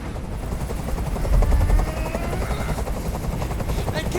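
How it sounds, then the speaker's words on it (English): Rapid thudding rotor chop of a helicopter overhead in the video game Detroit: Become Human, loud and continuous, with a low rumble swelling briefly midway and faint game sounds underneath. "I can't stand that noise anymore. Tell that helicopter to get out of here."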